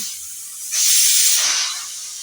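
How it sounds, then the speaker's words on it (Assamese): A pressure cooker whistle in a home kitchen, cooking dal, releasing a loud, steady hiss of steam that swells suddenly, holds for about a second, then softens back to a lighter hiss. "এয়া কুকাৰ চিটি মাৰিছে"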